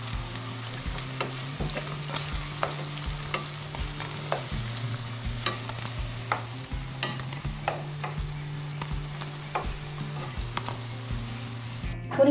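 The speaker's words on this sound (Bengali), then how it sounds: "হালকা ব্রাউন করে ভেজে নেব সব পনিরগুলো।" Paneer pieces frying to light brown in a pan of oil, giving a steady close sizzle with frequent small crackles and stirring clicks over a low hum, no voices.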